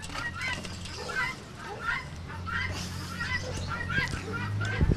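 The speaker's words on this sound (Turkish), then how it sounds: "keklikler, horozlar, tavuklar" Poultry at a bird enclosure holding partridges, roosters and chickens, with repeated clucking and calls close by, mixed with a constant background hum and some talk.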